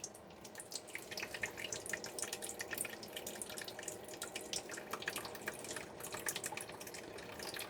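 Water runs into a bucket of a DIY self-watering hydroponic system controlled by a float valve, a soft continuous trickle with scattered drips and splashes, fairly quiet and steady.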